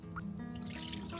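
Water trickles and drips as a stone mano for a metate is rinsed and scrubbed, a brief, faint splashing close by with a low hum behind it.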